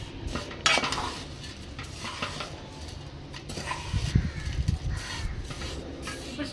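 Semiya and powder being mixed in a pan with the stove off, giving irregular scraping and clinking of a spoon on metal with softer shuffling of the dry mixture, close by and moderately loud, without speech.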